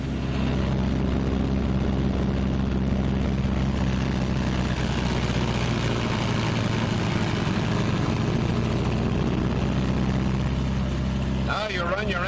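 Twin radial engines of a 1944 Martin B-26 Marauder bomber running up together to about 1,800 RPM on the ground, a loud, steady, low droning roar with strong harmonic hum throughout, broken by a brief sputter near the end.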